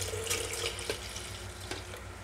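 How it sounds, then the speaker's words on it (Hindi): Milk being poured into a grinder jar for a milkshake, giving a soft, continuous liquid trickle with a few faint clinks, low in level over a steady background hum. "तो सबसे पहले हम ग्राइंडर जार लेंगे, उसमें दूध डालेंगे।"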